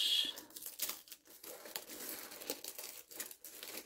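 Tape is pulled and torn close by, a sticky crinkling rip broken by short pauses, fairly quiet with no voices.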